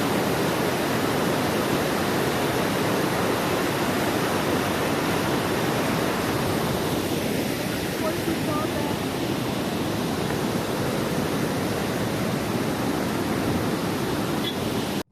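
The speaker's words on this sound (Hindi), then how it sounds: "आप वाटरफॉल के बिल्कुल पास पहुँच जाएंगे" A waterfall near Munnar, Kerala, approached up close, gives a steady, dense roar of falling water that holds unbroken and fairly loud throughout.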